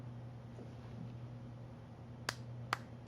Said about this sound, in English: One clap for Miller